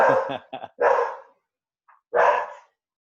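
Several sharp barks from a dog indoors, a quick cluster of three or four followed by a pause and one more loud bark, with no talking.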